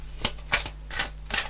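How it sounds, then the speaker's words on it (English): Tarot cards are handled and shuffled close by, several quick papery riffles and slaps in an irregular rhythm over a low steady hum, with no talking. "Let me get the cards."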